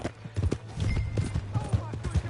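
Horse hooves gallop in the Red Dead Redemption video game, a steady rapid clip-clop rhythm, close and loud, with people talking and shouting over it.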